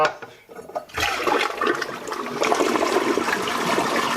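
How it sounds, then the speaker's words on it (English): A Toto flush toilet on a septic setup refills its tank, a brief quiet moment then a steady rushing, hissing water flow that continues loud and close to the end. "So that only took a very short time to fill the tank totally back full of water."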